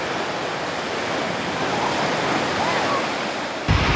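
Ocean waves wash steadily onto a beach in a continuous, rushing roar with no voices.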